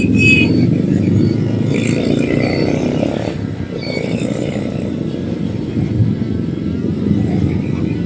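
Low rumbling engine of a motorcycle cruising on an evening ride, a steady deep drone with road and wind noise, close and continuous, easing slightly partway through.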